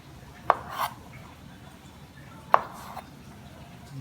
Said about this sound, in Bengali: তারপরে এটাকে ছুরি দিয়ে একদম চিকন চিকন করে কাটতেছি